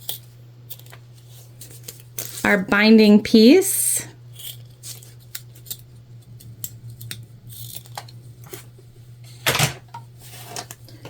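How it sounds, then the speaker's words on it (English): Scissors snip off excess zipper tape during sewing, giving a few short, crisp cuts, including one near the end, under a steady low hum, with a person talking briefly. "Gonna cut off the extra zipper tape, so anything that's hanging over"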